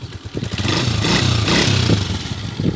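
Honda TMX125 Alpha motorcycle engine, converted with a Motor Star 200cc clutch setup, running close by with a choppy mid-pitched putter that rises slightly in revs partway through.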